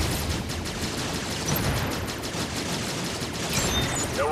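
Continuous dense rattle of gunfire shooting at enemies in a Final Fantasy 7 Rebirth space shooter sequence, steady and fairly loud throughout, with faint electronic effects toward the end.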